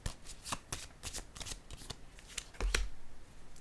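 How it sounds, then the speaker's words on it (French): A tarot deck is handled close up, cards shuffled and slid with rapid papery flicks and riffles, ending in a card drawn with a sharp snap and a soft thump. "je vais piger une autre carte ici"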